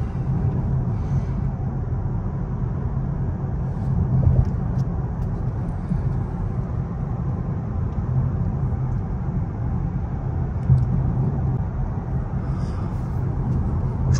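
Steady road noise and engine rumble from inside a Mercedes A-Class 250e driving on a country road, a continuous even drone with no voices.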